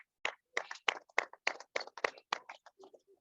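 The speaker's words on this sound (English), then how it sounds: "Give yourself a round of applause." CrossFit class participants at a community row throwdown clap for themselves in a short burst of sharp, close handclaps lasting about three seconds, thinning out toward the end.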